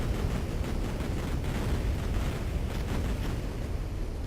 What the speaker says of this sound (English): Obnoxiously loud noises coming from the rockets, but I guess that kind of makes sense because they're launching into the air